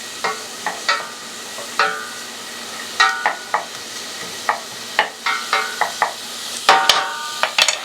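A small onion sweats in a hot pan with a soft, steady sizzle, while a utensil scrapes and stirs it in irregular, close-up strokes. No one speaks.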